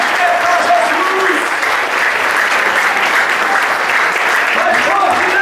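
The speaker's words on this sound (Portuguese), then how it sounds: "Aplauda Jesus bem forte!" Church congregation at an evangelical service applauding hard, a dense, continuous wash of clapping from many hands with a few voices calling out over it.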